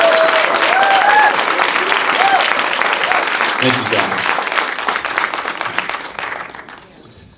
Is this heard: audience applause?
yes